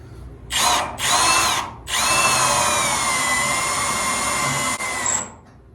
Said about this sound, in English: Have I ever told you that I do not enjoy drilling out spot welds?